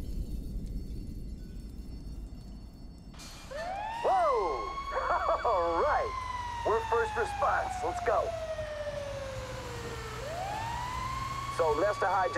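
Emergency vehicle siren in a game, wailing up and down in long sweeping cycles with a rapid yelp burst mixed in, loud and close over low engine rumble after a quiet start.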